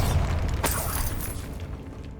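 The Bombarda blasting spell goes off in Hogwarts Legacy as a single deep boom with a sharp crack partway in, followed by a short rumbling decay, loud and close with no talk.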